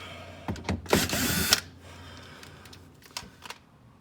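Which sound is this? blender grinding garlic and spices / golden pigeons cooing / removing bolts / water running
removing bolts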